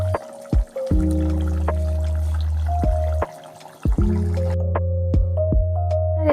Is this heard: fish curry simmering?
yes